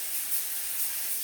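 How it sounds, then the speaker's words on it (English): A short, steady spray hisses while a roast dinner is being prepared, a soft, even burst lasting about a second with no voices. "I'm going to spray."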